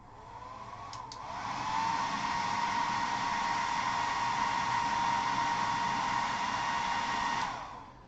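A blow dryer runs continuously, drying isopropyl alcohol off a painted scale model; a steady close whirring hiss swells in, holds for several seconds, then cuts off.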